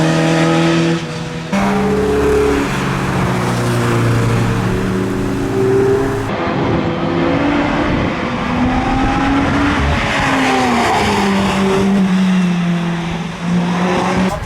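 A Lotus 2-Eleven race car lapping the Cadwell Park circuit, its engine loud and close, rising and falling through gear changes with a brief drop between shifts and sustained high revs.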